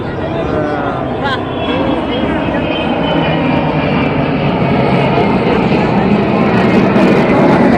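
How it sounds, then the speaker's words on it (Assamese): Indian Air Force planes at an air show make a loud, continuous engine roar that fills the whole stretch, and a person speaks over the din. "চব ফালৰ পৰা প্লেন আহি আছে"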